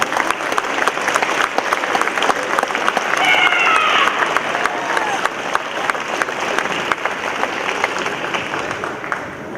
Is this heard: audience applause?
yes